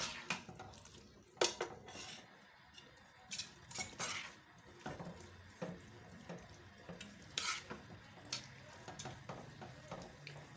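Chickpeas for chole get roasted in spiced masala in a pot, with intermittent spoon clanks and scrapes against the metal over a faint, quiet sizzle and no voices.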